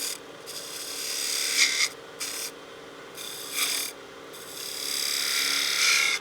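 Spindle gouge cutting into wood on a lathe while a wine glass is turned, giving bursts of raspy scraping and shaving noise in several passes over a steady motor hum, with no talk.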